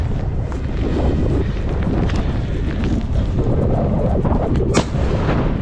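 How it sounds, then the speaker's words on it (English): A single sharp gunshot cracks out near the end of a wild boar hunt carried out in harsh weather, rising above a constant heavy roar of wind buffeting the microphone. "One shot and it was down."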